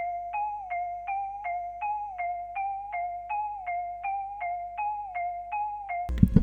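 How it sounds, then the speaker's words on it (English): A repeating mallet one-shot sample note pattern, bright and woody, bouncing between two pitches in a steady quick rhythm, ending with a brief thump. "I lastly added this mallet"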